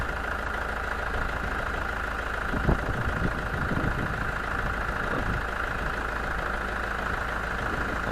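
A delivery truck's engine rumbles steadily as it reverses through mud on a building site bringing ventilation and smoke chimneys, a constant close low drone with a few knocks and clunks partway through.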